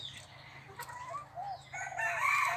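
A bantam rooster crows at close range, a rising and falling call over a low steady background hum, with no voices.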